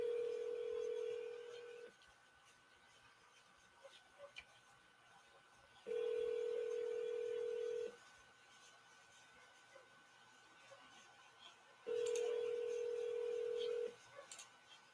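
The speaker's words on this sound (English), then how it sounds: "So dialing. Can you hear that, Matt?" A telephone call plays steady ringing tones, three identical two-second beeps spaced about four seconds apart, clear over a quiet background.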